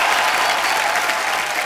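A studio audience on a comedy stage show bursts into loud, dense applause to welcome a guest, a continuous close wash of clapping throughout.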